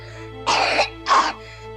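Two short, dry, harsh coughs from a child, evenly spaced and close, loud against a faint steady hum with no talking.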